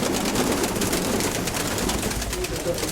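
Pigeons coo softly in a dovecote amid a steady bed of background noise, the low murmuring calls continuous over a few seconds.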